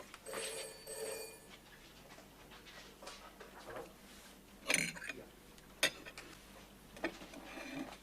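A telephone bell rings in two short bursts at the start, followed by quiet room noise with a few clicks and knocks.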